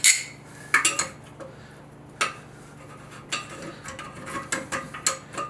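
Tightening a nut onto a toilet tank during a toilet repair gives sharp, irregular plastic clicks and ratcheting taps, close up, scattered across a quiet background.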